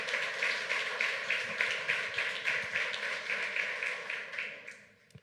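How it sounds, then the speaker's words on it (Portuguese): Church congregation clapping together in a steady rhythmic beat, a dense even patter that carries on for several seconds before fading out at the end. "aplaudam ao Senhor"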